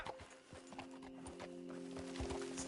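Horse hooves clip-clopping in a steady walking rhythm in the video game Red Dead Online, with a faint sustained tonal hum underneath; no talking.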